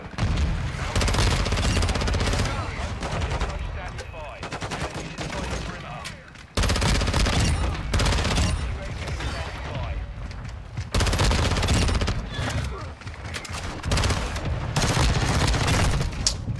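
Rapid automatic fire from a VEL 46 submachine gun in Call of Duty Modern Warfare II, long loud dense bursts broken by brief pauses, with in-game booms and faint voices mixed in.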